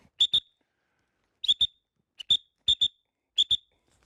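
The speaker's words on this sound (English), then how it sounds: "It's conditioned to the whistle, so you can get him from long distances." A falconry training whistle calls a gyrfalcon, sounding five loud, shrill double blasts in an even rhythm, each pair clipped and close, with quiet gaps between and no voices.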